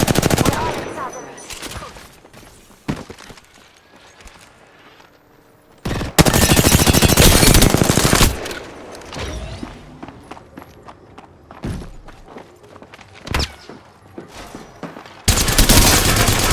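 Video game gunfire crackles in loud automatic bursts separated by quieter stretches with footsteps and movement, the shooting coming in several sharp, close volleys.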